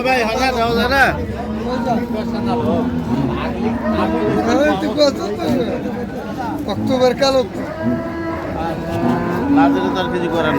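Cows and calves moo repeatedly at a busy cattle market in Ambari, Dinajpur, with loud overlapping calls over constant crowd chatter and people talking nearby.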